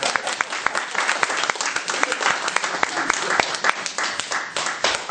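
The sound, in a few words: applause for Deborah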